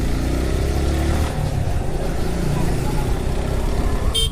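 A Suzuki Gixxer motorcycle being ridden, its engine a steady, loud drone with a constant low rumble throughout, with a brief rise in pitch partway through.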